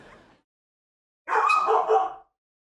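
A short, sharp dog sound, close and fairly loud, like a single huff or sneeze-bark, after a brief faint noise and then silence.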